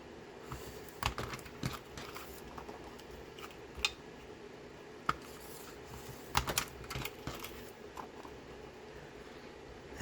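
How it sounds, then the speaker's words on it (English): Scissors snip acetate sheets to trim off their blank edges, making scattered, quiet clicks and crisp cuts at an irregular pace, close by with no talking. "So let's cut off the blank"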